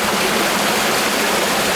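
Cold outdoor shower water running beside a tiny pool, a dense, steady hiss of splashing water filling the whole moment at close range with no voices over it.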